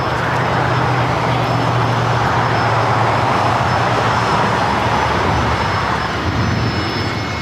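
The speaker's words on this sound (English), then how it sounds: "We have the Star Wars livery now taking off there on the north side." An Alaska Airlines jet in Star Wars livery takes off from the north side at LAX bound for Portland, its engines a loud, sustained, broadband roar that holds steady throughout with no talk.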